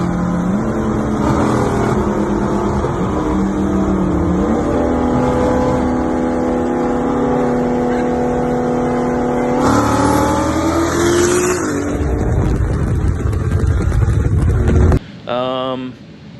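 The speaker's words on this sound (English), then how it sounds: "so I just hit a third gear pull and let out of it" A 2JZ-swapped BMW E30 with a dual-clutch gearbox makes a hard third-gear pull. Its loud, close engine note climbs steadily in pitch, steps through a shift, then drops away abruptly as the driver lifts off.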